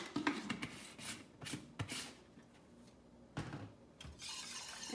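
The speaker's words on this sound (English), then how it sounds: "And give that a little whisk" Mushroom latte powder being whisked in a cup, heard as quiet, irregular scraping and clinking strokes in short bursts, close but soft, with brief pauses between.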